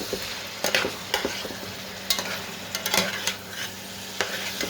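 Snakehead fish being sautéed in a pan, alone without talk: a steady close sizzle of frying with repeated scraping, clattering stirs breaking in at irregular moments.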